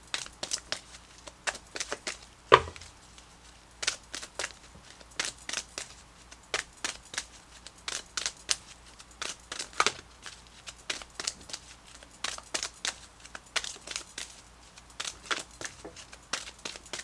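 Tarot cards are shuffled in steady quick bursts of soft riffling and slapping, close and fairly quiet, with no one talking.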